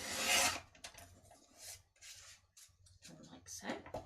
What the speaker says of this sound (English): It's sometimes just easier to just go for a trimmer. So I'm going to chop a strip